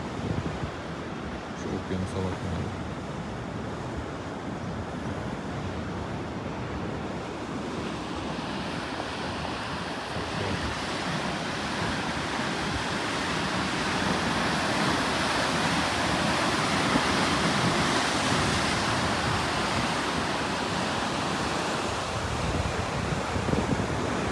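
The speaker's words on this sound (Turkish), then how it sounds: "Şu an burası Kuzey Atlas Okyanusu." North Atlantic surf on the Casablanca coast in Morocco, a loud continuous roar of breaking waves mixed with wind buffeting the microphone, steady throughout with no distinct voices.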